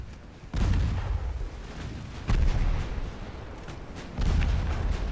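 Warship guns booming in Ultimate Admiral Dreadnoughts naval combat: three heavy, deep salvos spaced about two seconds apart, each followed by a rumbling tail and distant crackle.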